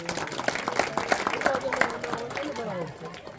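Steady applause from a crowd welcoming guests at a school celebration for the Guru Ravidas Jayanti festival, dense clapping with a low hum of chatter running underneath.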